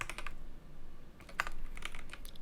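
Quick keystrokes on a computer keyboard while modeling in Blender, a few short clusters of crisp clicks close by, separated by quiet pauses.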